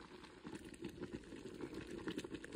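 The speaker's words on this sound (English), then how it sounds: "Oh boy, it's boiling." Water rolling at a boil in a pot on the stove while lettuce is processed, a steady bubbling, churning wash with small pops, close and continuous.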